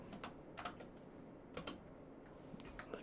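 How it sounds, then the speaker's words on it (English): Computer keyboard typing and clicking during a live stream, faint scattered key taps in small bursts over a steady background hiss, quiet and without talk. "Come on, what is happening with my keyboard?"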